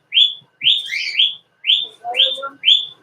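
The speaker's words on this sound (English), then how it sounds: "now the birds are going to go nuts" Pet birds sing indoors in bright, piercing whistled chirps, repeated in short bursts about half a second apart. The notes are close and loud, with a busier chattering phrase in the middle.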